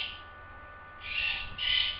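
A pet bird gives two sustained, bright calls close by, each about half a second long with a short gap between them. A steady background hum runs underneath, and no one speaks.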